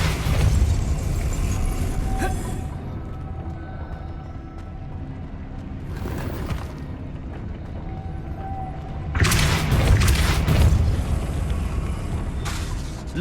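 Casting the Depulso spell in Hogwarts Legacy gives a forceful whooshing blast, and several loud bursts ring out over a rumbling game ambience, the last and biggest arriving near the end.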